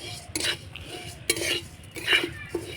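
Rice grains stirred with a metal spatula in hot oil in a pan, giving a few separate scraping clatters roughly a second apart, close and moderately loud over a quiet background.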